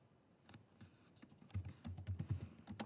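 Quiet, close keystrokes on a computer keyboard come in a short irregular run of taps that grows slightly busier toward the end.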